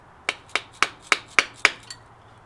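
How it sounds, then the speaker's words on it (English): Seven sharp hammer blows, evenly spaced about a quarter second apart and struck through a punch, drive a dowel flush into place; each crisp metallic impact rings briefly and decays, the last one softer, with no talk. "It might go more with a better hammer."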